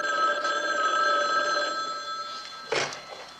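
A telephone rings in a home, a steady electronic trill holding for about two and a half seconds before a brief louder knock near the end.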